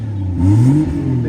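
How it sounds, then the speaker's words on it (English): A BMW 440i fitted with an M Performance exhaust gives one short rev while parked on a limiter capped at 3,000 rpm. The engine note climbs, holds briefly, then settles back to idle, loud and close. "Just going to give her a little rev."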